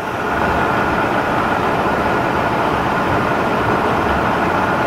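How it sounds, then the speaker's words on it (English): The main motor of a Sharp VH3 horizontal and vertical milling machine runs as a loud, steady, broadband roar that holds an even level throughout, close by. "Turn on the main motor."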